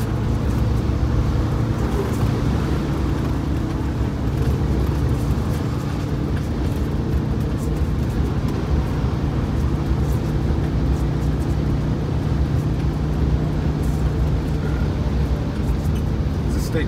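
A Wanderlodge bus with a turbocharged Detroit Diesel 8V92TA engine at full throttle, a loud, dense, steady diesel roar that fills the whole stretch with constant road noise.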